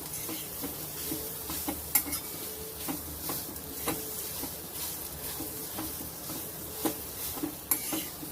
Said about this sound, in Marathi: आणि आता ही छान अशी जराशी परतून घ्यायची